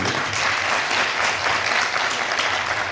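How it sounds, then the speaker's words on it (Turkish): Audience at a film gala in Çorum applauds during a plaque presentation, a dense, steady wash of many hands clapping close and loud throughout with no pauses. "Kocaman bir alkış alalım"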